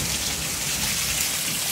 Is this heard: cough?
no